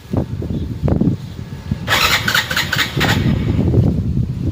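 A motorbike engine cranks and catches close by, starting with a short starter whir and then a rough, loud running rumble that holds steady.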